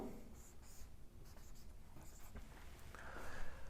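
Chalk or marker writing out a chemistry example on a board during a lecture, faint scratchy strokes and taps at a distance, continuing steadily against quiet room noise.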